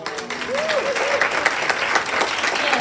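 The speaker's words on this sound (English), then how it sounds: "clap it up, y'all, for all of the wins" Applause fills a room at a celebration event, steady dense clapping from a sizable crowd throughout, with a voice briefly audible early on.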